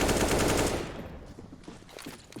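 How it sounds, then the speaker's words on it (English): Rapid automatic gunfire in a CS:GO-style competitive esports match on the Vertigo map, a loud dense burst at first that thins into scattered, quieter shots and clatter. "the gunshots are enough to kind of force Spook away"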